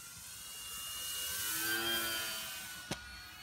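A model Spitfire aircraft's engine whines steadily overhead, its pitch sliding as it swells louder, passes nearby and fades, with a short knock near the end.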